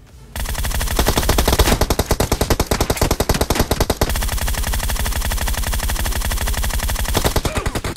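Loud, close automatic gunfire in the PUBG Mobile video game, rapid sustained bursts of shots in a fast even rhythm with only brief gaps, no voices.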